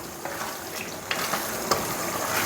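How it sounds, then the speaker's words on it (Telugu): Bottle gourd curry is stirred in a pan right after warm milk is poured in, giving a steady wet sizzle with a few scraping spoon strokes, close and continuous, with no talking. "పాలు పోసుకున్న తర్వాత ఒకసారి మంచిగా కలుపుకోవాలి"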